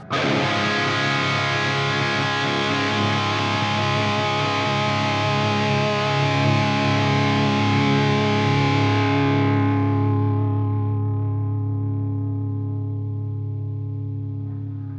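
A heavily distorted electric guitar chord through a Horizon Devices Precision Drive pedal with the noise gate fully up rings out loud and sustained, then cuts off its bright edge and decays slowly.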